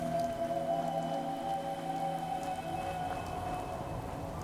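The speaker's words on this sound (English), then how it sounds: "Look at that. We got rain incoming." Rain in the video game Fallout 4, a steady hiss of falling drops with faint patters, running evenly throughout without speech.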